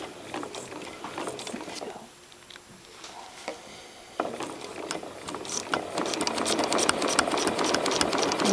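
A Janome sewing machine running with a free motion quilting foot, crosshatching around applique, gives a steady mechanical stitching hum with short pauses and restarts that builds louder toward the end.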